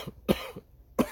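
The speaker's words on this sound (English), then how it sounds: "coughing's not the best thing in the world" Two sharp coughs, a quick one then another about two-thirds of a second later, close and fairly quiet, with a small throat sound between them and no talk.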